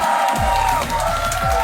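A live studio audience at a comedy game show claps and cheers in one dense, loud, unbroken wash of noise, with a few whoops mixed into the roar.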